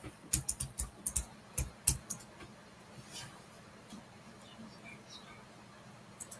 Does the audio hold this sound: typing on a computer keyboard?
yes